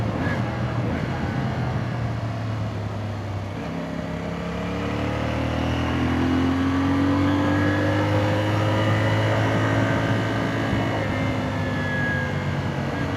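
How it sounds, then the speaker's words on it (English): An Ibex 450 motorcycle's exhaust note while riding on back roads: a steady, fairly quiet engine drone whose pitch climbs and settles through the gears, heard up close and continuous throughout. "I have to say the exhaust, while it's not loud, it sounds great."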